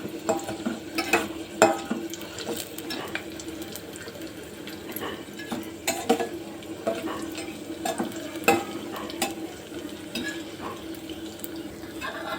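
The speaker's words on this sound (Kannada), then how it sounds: "ದ್ರಾಕ್ಷಿ ಮತ್ತು ಏಲಕ್ಕಿ, ಬಾದಾಮಿ ಹಾಕ್ಕೊಂಡು ಫ್ರೈ ಮಾಡ್ಕೊತ ಇದ್ದೀನಿ" Raisins, cardamom and almonds fry in ghee in a pan. A close, crackling sizzle runs under frequent scraping and stirring clatter, and there is no talking.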